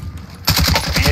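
A Sykov pistol fires in Warzone, a short fast burst of rapid close shots hammering out in a quick rhythm.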